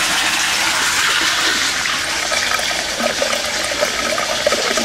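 Water from an aquaponics tank spills over into a drain and pours back down into a sump tank, a loud continuous rushing gush that holds steady for several seconds with no voices.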